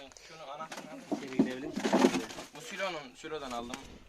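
Pigeons coo in repeated soft, throaty phrases close by, several overlapping calls rising and falling over a few seconds.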